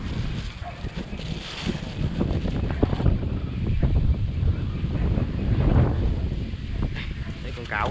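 Wind buffets the microphone steadily outdoors during a wild honeybee nest harvest from a kapok tree, with a constant roaring rush and occasional gusts while people talk faintly underneath.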